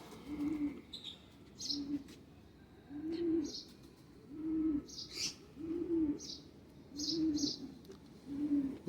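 A Bichhu breed pigeon coos in a steady repeating rhythm of low burbling calls about once a second, close by, with faint higher chirps from other birds between them.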